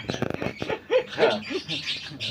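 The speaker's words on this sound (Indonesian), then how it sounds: "Pada dasarnya kan lovebird, burung cinta." Lovebirds give a run of bright, sharp chirps and short rising calls, close and moderately loud, with a busy burst at the start and scattered tweets after.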